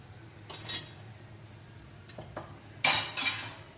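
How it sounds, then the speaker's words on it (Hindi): Dal being ladled from a cooking pot into a bowl, heard as a few separate clinks and scrapes of a metal spoon against the pot, with a louder burst of clatter near the end and quiet gaps between them. "अब जो दाल है इसको मैं निकाल लेती हूँ बाउल में"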